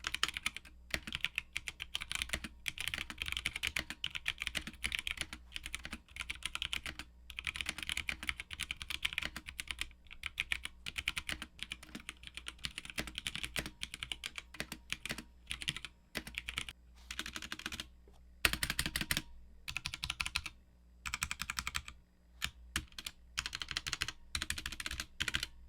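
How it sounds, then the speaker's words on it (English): Typing on a mechanical keyboard fitted with Halo Clear switches, 65 gram actuation: a steady, dense stream of close keystrokes with brief pauses, heard alone with no talking. "my alt came with the Halo Clear switches"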